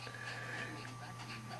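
A pregnant dog with a swollen belly pants quietly and steadily, a soft continuous breathy rhythm over a low electrical hum.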